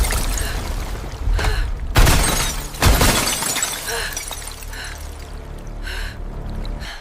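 Ice cracks and shatters in several loud bursts, followed by a rushing splash and churning water as something plunges through, then bubbling turbulence.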